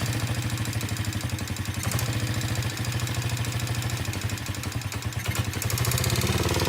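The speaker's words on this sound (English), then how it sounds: "let's give y'all a start up now with the new and improved silencer to make your dirt bike quieter" A dirt bike fitted with a new silencer idles up close, its engine putting out a steady, fast mechanical chug with a light clattery top end, muffled and fairly even, with no one speaking.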